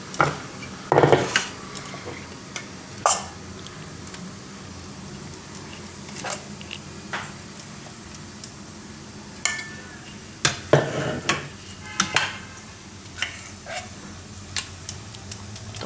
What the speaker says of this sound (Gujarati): બેમાં આપણે ખીરું પાથરી દઉં